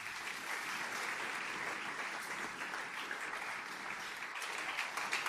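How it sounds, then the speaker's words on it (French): A standing church congregation applauds during a service, a dense, even wash of clapping that holds steady from start to finish at moderate distance. "Acclamons le Seigneur."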